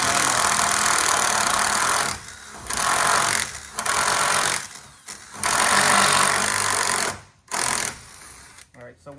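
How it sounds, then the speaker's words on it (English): A power drill bores at an angle into a wooden skid during a deep-litter chicken coop build, whirring loudly in several close bursts separated by short pauses. "I'm just gonna drill down on an angle."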